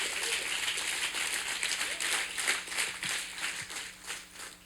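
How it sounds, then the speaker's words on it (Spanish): Applause fills a church as a congregation claps steadily in a dense wash of hand claps, moderately loud and sustained for several seconds, with faint voices underneath. "Aplauso al Señor, aleluya."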